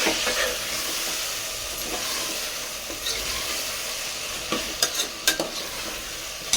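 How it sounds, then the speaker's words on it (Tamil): Vegetables stirred and sautéed in hot oil after onion and tomato have softened, giving a steady sizzle with scraping stirs and a few sharp utensil clicks toward the end. "வதக்கிடுவோம் காய் எண்ணெயில்"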